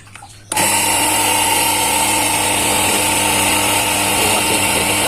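An HL QL 1900 jet cleaner pressure washer, just hooked up to water, switches on abruptly after a brief quiet moment, then holds a loud, steady motor whine and buzz up close.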